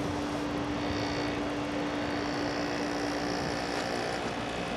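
A homemade silent air compressor motor, wired through its capacitor, runs steadily with a constant hum and a strong sustained tone, loud and close, with no talk over it.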